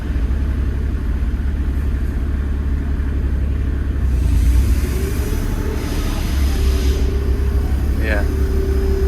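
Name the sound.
tractor flail mower spinning up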